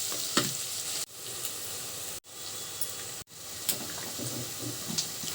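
Onions sizzle steadily in hot oil in a pan with salt added, a dense close crackle that carries on throughout, broken by a few brief cuts to silence.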